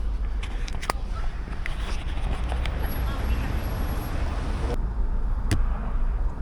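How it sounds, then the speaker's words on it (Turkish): Dense road traffic in downtown Toronto, including heavy trucks, rolls on as a steady, loud roar, with passing vehicles swelling and fading and a few sharper knocks and hisses breaking through. "Lan bıktık şu trafikten be."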